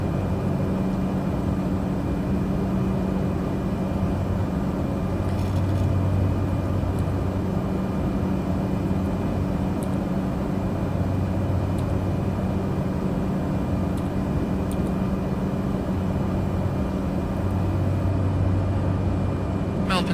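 Inside a Cessna Caravan flying near Merimbula at 2,800 feet, a steady loud engine drone fills the cabin with a constant low hum throughout, while a voice speaks over it in bursts.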